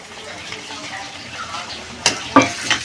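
Grated ginger is sautéed into a pot of simmering tomato and spice masala for khichuri, making a gentle, continuous sizzle with stirring, followed by three sharp spoon scrapes and knocks near the end.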